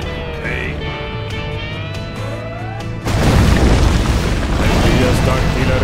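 Artillery explosions in Command & Conquer Generals Zero Hour erupt as a dense, loud booming barrage halfway through, breaking in over earlier quieter game sounds and a speaking voice, then carrying on as continuous thudding blasts.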